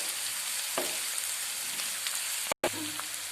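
Onions and green chillies frying in a pan give a steady, close sizzle with a few stirring clatters and a very brief break near the end.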